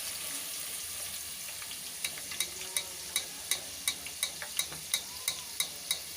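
Potato chips fry in hot oil with a quiet, steady sizzle, while sharp crackles and pops start partway through and come at a regular pace.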